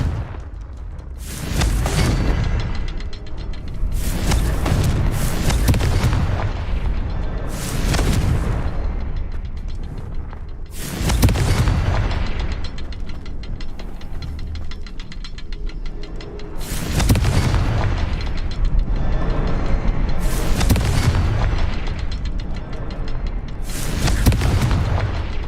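Loud Confringo spell explosions from the Hogwarts Legacy video game, about seven heavy booming blasts spaced a few seconds apart, each followed by a rumbling tail, with no talk.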